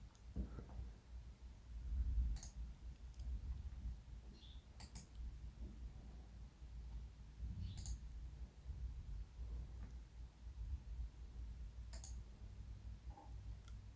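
Computer mouse clicking while working in an Excel spreadsheet, a few faint, sharp clicks spread widely apart over a quiet room hum.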